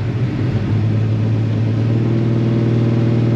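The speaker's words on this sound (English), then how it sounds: "Let's see if it'll do a roll and burnout." A car with two Edelbrock VRS-4150 carburetors on a tunnel ram intake, in second gear during a roll into a burnout, gives off a loud, steady engine rumble and drone that holds even and close throughout.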